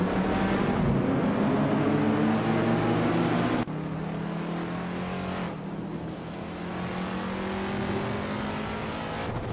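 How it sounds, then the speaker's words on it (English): Loud, close engine drone of a 1972 Maserati Merak in a race, rising and falling in pitch with abrupt breaks like gear changes or cuts between passes. "Going Tanto is driving a 1972 Maserati Merak Dotto"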